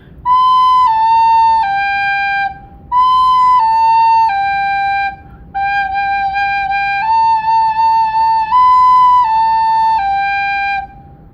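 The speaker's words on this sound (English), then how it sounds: "If I played Hot Cross Buns without thinking do, it might sound like this." Solo recorder plays the descending three-note tune Hot Cross Buns without tongued note starts, so the tone sounds smeared and unclean. Clear, close and loud, in phrases separated by short gaps, with no talking.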